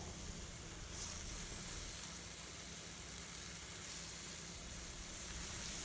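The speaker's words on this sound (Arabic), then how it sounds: "في مقلة نسخنوا الزيت ونحطوا بصلة تتقلى" Onion frying in hot oil in a pan, a soft, even sizzle that is fairly faint and continuous, with a slight swell near the start and no voices.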